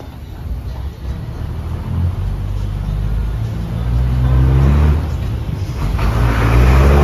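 A chiva bus rolls along on the route from Salento to Jardin in Colombia, its engine a loud, steady low rumble that swells slightly toward the end, with faint voices underneath.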